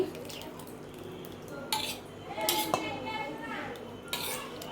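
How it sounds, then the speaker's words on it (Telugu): A spoon scrapes and clinks against a steel bowl while semolina batter is stirred with sour yogurt for uttapam. The mixing sounds come in irregular bursts of clatter over a faint background hum. "ఇందులో పుల్లటి పెరుగు వేసేసుకోవాలి"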